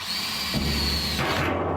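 A power drill whirs continuously and loudly up close, drilling holes in a metal drum, its pitch shifting as it bites into the metal.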